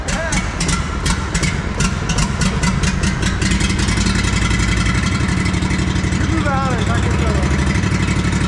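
New power buggy engine running with the choke left on, a loud, steady rumbling idle that holds throughout, with voices talking over it.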